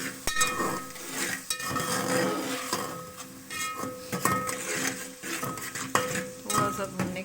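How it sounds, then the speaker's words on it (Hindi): Spoon stirring and scraping in a metal pot as spices fry with tomatoes for channa pulao, repeated clinks and scrapes over a soft sizzle, close up with no talking. "इसको थोड़ा सा भूनेंगे।"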